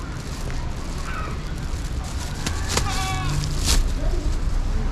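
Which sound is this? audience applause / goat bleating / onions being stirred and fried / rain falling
goat bleating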